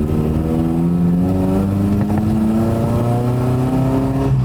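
A Toyota 22RE-powered old truck on 37-inch tires revs hard and loud, its engine note climbing steadily in pitch over several seconds, close and continuous with no voices.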